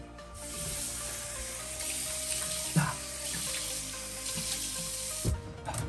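Cold water runs steadily from a tap into a sink in a steady broadband rush, close and continuous, with a couple of brief knocks partway through and no talking.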